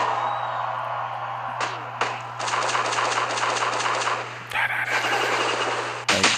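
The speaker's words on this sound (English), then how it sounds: "That sound like gunshots." Rapid bursts of gunfire in the WWE Champions mobile wrestling game, a series of sharp cracks and rattling volleys over a steady electronic hum, with a couple of louder impacts near the end.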